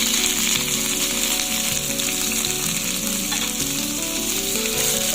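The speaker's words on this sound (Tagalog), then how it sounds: "Lutuin natin yung tomato bago natin ilagay yung okra." Tomato cooking in a frying pan as the base for an okra curry, sizzling loudly and continuously up close, with occasional stirring and no voices.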